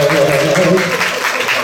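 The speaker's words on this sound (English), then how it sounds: "Give her a round of applause" Audience applause from a crowd at a lovers rock music discussion event, a dense steady clapping that carries at full level throughout and eases slightly toward the end.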